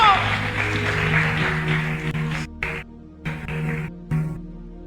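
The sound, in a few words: congregation applauding in church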